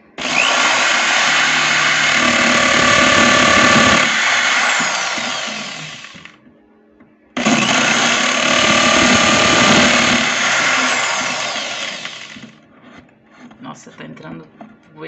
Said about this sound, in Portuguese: Eu vou pegar a broca aqui, tá? Ó. E vou fazer assim, ó.